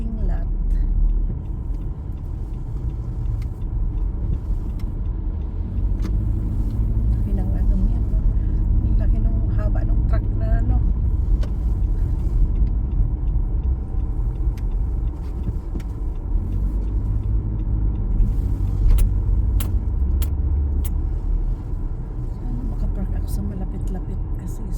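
Car interior while driving into a snowy mall parking lot in winter, a steady low engine and road rumble throughout with someone talking over it.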